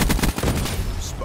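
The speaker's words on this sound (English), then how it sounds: "Sniper fire." Rapid gunfire in Call of Duty Black Ops III, a quick burst of loud, closely spaced shots crackling over a second or so, with a voice faintly underneath.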